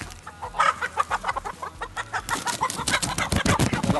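Hens in an urban backyard coop clucking continuously close by, overlapping bursts of cackling and clucks from several birds in a busy, lively chorus.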